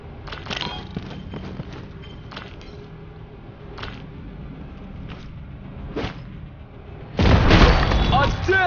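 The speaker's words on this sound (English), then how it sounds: "devastating explosion." A heavy explosion bursts in the video game Showgunners, a loud booming blast near the end that follows a series of sharp thumps and clatters, with an announcer voice over the action.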